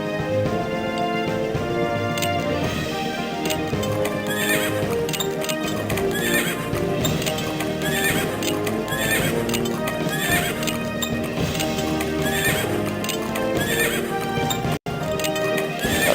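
Horse artillery in the Civil War Generals 2 strategy video game, with continuous rhythmic clip-clopping hooves and repeated loud neighs over a busy, layered game soundtrack.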